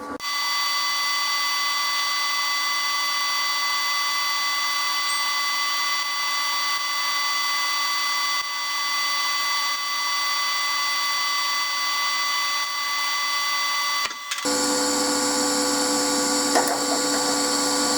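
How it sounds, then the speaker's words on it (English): A steady, unbroken TIG welding arc hums and buzzes with a constant electrical tone while ER70S2 filler wire is fed into a carbon steel joint. Near the end the sound shifts to a harsher hiss. "That'll work nice, guys. Really nice stable arc."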